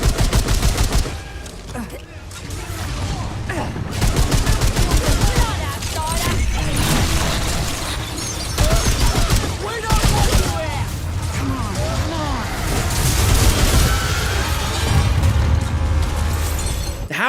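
Deployable turrets from a video game's engineer class shred enemies with dense, continuous rapid gunfire and crackling impacts, loud and close throughout, with a voice talking over the shooting.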